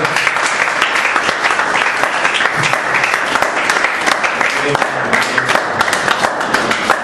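A church congregation applauds loudly and continuously in praise of the Lord, a dense, steady wash of many hands clapping that fills the whole stretch, with faint voices mixed in underneath.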